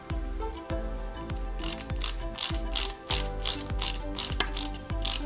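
A screw is driven into the plastic body of a 1/8-scale Mercedes-Benz 300 SL model kit, with rapid ratcheting clicks from the screwdriver between short bursts of turning, close and clear, with no voices.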